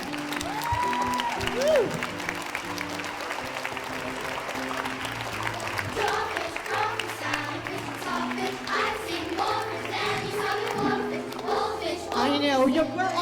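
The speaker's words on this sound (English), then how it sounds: "we're gonna give a round of applause, a big shout out to Mr. TJ right over there, our choir master" Audience applause and clapping at a Grade 5 school annual day honouring the choir master, steady across the clip with a single cheer near the start and tonal music running underneath.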